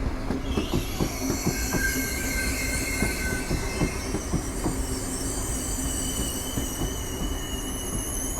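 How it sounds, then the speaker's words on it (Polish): TLK Cormoran passenger train hauled by an EP07 electric locomotive pulling away in Warsaw, with rhythmic wheel clatter over rail joints and high sustained wheel squeal, steady and close. "Rusza opóźniony ponad 70 minut TLK Cormoran EP07108"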